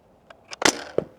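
A 3D printed dart blaster fires at a target on a range, giving a few sharp, snappy cracks and clicks in quick succession, close and fairly loud with no talking.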